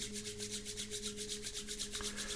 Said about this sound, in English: We bring the hands together, we rub them